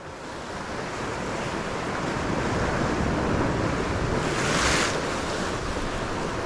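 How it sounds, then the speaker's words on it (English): Sea waves surge in and out against rocks at dawn on a fishing shore, a steady broadband wash with gusty wind noise on the microphone and a brief brighter hiss near the end as a wave breaks. "Hearing that sea rushing in and out, just so relaxing."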